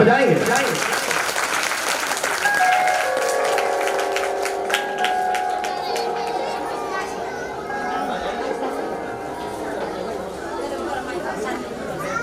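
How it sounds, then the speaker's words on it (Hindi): A church congregation claps loudly during a Christian worship gathering, a dense steady wash of applause mixed with crowd chatter and voices, lasting throughout without fading. "जोरदार ताली आप लोग बजाएंगे"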